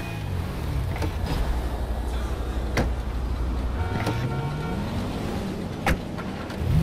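The Pegasus Infernus supercar in GTA V drives with a steady engine drone whose pitch rises and falls as it accelerates, broken by a few sharp clicks and thumps, with no talking.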